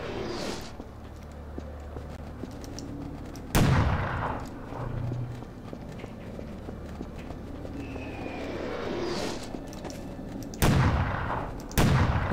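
Gunshots from a firearm in the sci-fi shooter E.Y.E. Divine Cybermancy: a few sharp, loud cracks spaced apart, over a low ambient rumble with no talking.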